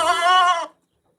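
A single goat bleat, loud and close, a sustained quavering cry lasting well over half a second before cutting to silence.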